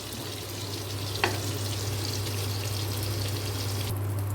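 Oil being scooped out of a frying pan while cooking dudh potol, a low steady hiss with a faint scrape and soft liquid trickle, near and quiet, no talking.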